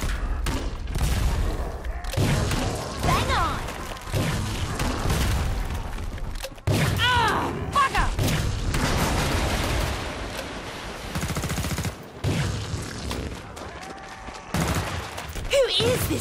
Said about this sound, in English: She shoots, she kills!